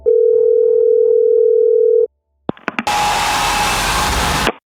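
A telephone dial tone rings out as a steady, loud continuous tone for about two seconds, then cuts off, followed by a few clicks and a burst of loud broadband noise.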